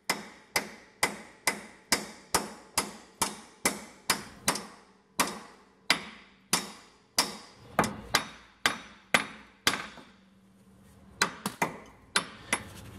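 Steady, sharp hammer blows drive a sacrificial bolt into the hub bearing assembly of a Jeep WJ, close and loud, about two strikes per second, slowing slightly with a few quicker taps near the end.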